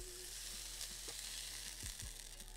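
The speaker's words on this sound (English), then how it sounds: "Got a nice sear on that beef." Beef sears in hot oil in a pan during a stir-fry, giving a soft, steady sizzle with a couple of faint utensil clinks.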